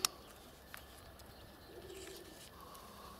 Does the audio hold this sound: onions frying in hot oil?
no